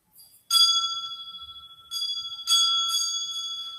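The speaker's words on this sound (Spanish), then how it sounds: "A ver si se escucha la campana" A bell rings in three separate strikes, each a bright metallic clang with a ringing tone that slowly fades, heard clearly with no talking.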